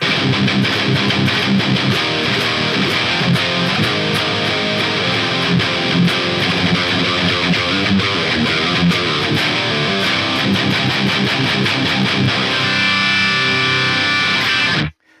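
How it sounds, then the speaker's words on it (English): Loud distorted electric guitar playing a driving riff, with rapid drum hits underneath, continuing steadily before cutting off abruptly at the end. "That way you can hear my angelic guitar tones here."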